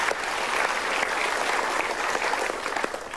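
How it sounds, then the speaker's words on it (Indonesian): An audience claps steadily at a seminar, a dense, even wash of applause filling the room from start to finish. "Kita berikan tepuk tangan."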